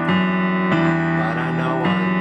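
Piano playing a chord pattern, with a sustained chord struck three times before shifting up to G, steady and close with no voices.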